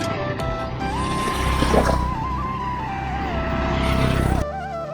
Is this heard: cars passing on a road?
yes